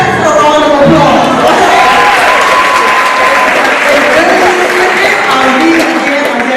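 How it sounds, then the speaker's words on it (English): Steady applause from an audience at a public-speaking club meeting, dense clapping at an even level for the whole stretch, with a few voices mixed in. "So give the parents a round of applause."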